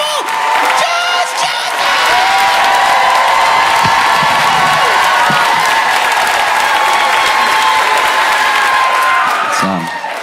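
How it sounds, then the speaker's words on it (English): Comedy show audience clapping and cheering, a loud, dense wall of applause with whoops and shouts from a large crowd, sustained for about ten seconds before tapering off. "Put your hands together. Start clapping right now"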